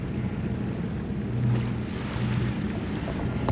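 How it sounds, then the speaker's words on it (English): Wind blows steadily across a sailboat approaching an island, a continuous rushing roar with low buffeting gusts and a faint wash of water, no voices. "the wind has picked up"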